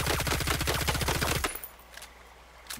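SR3M rifle in Ghost Recon Breakpoint firing a rapid full-auto burst at a tree, loud evenly spaced shots for about a second and a half, then stopping into quiet ambience.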